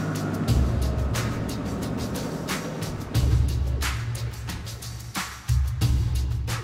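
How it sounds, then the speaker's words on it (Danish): A wide oversize transport truck rolling through a facility's barrier gates, a low, moderate diesel rumble with repeated knocking and clattering bursts as it moves past. "En bred særtransport passerer gennem anlæggets bomme"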